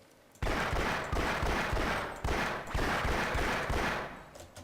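Rapid automatic gunfire in Half-Life: Source, heard as loud sustained bursts of fire that start abruptly, pause briefly between volleys and fade at the end, with no talking.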